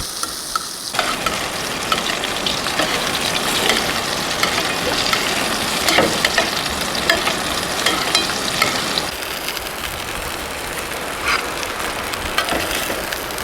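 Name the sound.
fish frying in butter in a pan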